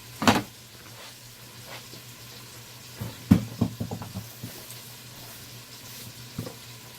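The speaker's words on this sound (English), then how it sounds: "Excuse me, I dropped my onion." An onion drops and knocks onto a kitchen counter or floor, a few sharp thuds clustered together, with a sizzle faintly in the background and a low steady hum underneath.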